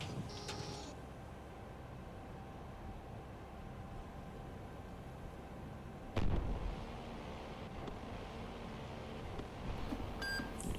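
Missile launch in the naval submarine game Cold Waters: a sudden whooshing blast erupts midway above a low, constant rumble, preceded by a brief electronic beep and followed by faint beeps near the end.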